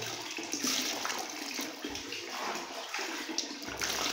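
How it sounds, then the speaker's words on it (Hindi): Wheat grains are washed in water, giving a continuous sloshing, splashing swirl with small irregular clinks and surges, close up and fairly quiet, with no talk. "इसको पानी में धोएंगे"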